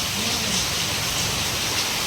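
Heavy rain pours steadily outdoors, a dense, even hiss that holds without a break for about two seconds with no voices over it.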